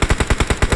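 Heavy automatic gunfire from a big gun in a video game, about eight evenly spaced loud bursts in rapid rhythm, close and dominant, with no talking.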